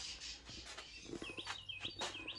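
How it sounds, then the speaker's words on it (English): Birds squabble over suet at a garden feeder, with quick, bright chirps and tweets repeating over a soft outdoor background, fairly near but quiet. "I got birds out here fighting over that suet."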